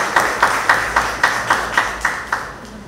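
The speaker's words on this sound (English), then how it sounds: "Give them a round of applause" At a junior calypso finals competition, the crowd claps for two performers tied for sixth place, heard as a regular run of about nine distinct, evenly spaced claps in a rhythmic beat that thins out and stops near the end.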